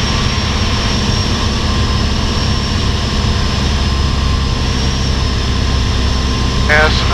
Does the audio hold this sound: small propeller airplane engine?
yes